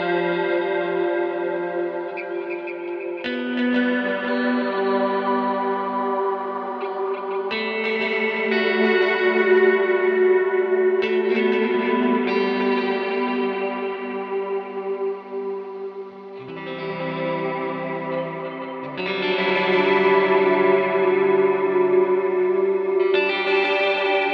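Electric guitar run through the Neural DSP Mateus Asato Archetype plugin, playing sustained chords and melodic lines drenched in chorus, echo and reverb, with a few slight distortion touches. The playing runs steady and full throughout, with no voices.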